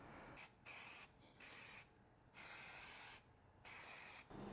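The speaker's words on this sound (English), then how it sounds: "Now I'm gonna give it a fresh coat of paint." A spray can puts a fresh coat of paint on a cleaned-up pulley from a 1968 Mercury Cougar's 302 engine, sounding as five short bursts of hissing spray, each lasting under a second with brief quiet gaps between them, faint and close.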